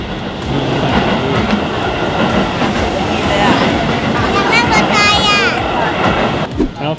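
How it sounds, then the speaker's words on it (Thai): A JR train rolls past near narrow residential lanes in Japan, a loud, close rumble of wheels on rails with a squealing screech partway through, fading toward the end. "มีรถไฟ"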